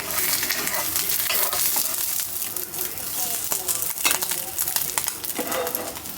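Egg posto fries in a little oil in a pan, giving a close, loud, steady sizzle with crackles and some utensil scrapes and clatter. Faint voices sit in the background.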